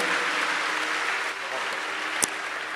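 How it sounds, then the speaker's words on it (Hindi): Large crowd at a religious gathering during the Maha Kumbh giving sustained applause, heard as a broad, steady wash of distant clapping with a single sharp knock near the end. "उनका भी प्रणाम पूर्वक वहीं से जोरदार तालियों के साथ पुनः अभिनंदन करें।"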